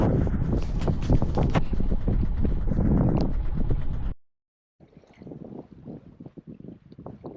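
A sailboat under both sails making five to six knots on calm water with wind and tide together, with steady loud wind and water rush for about four seconds, then a brief silence, then quieter wash and splashing.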